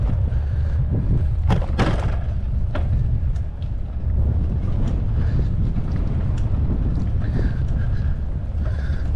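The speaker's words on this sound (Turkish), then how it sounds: "Şimdi bir tık rüzgar çıktı." Wind blows steadily across a seaside pier, a broad, continuous rumbling rush with gusty buffeting and occasional thumps.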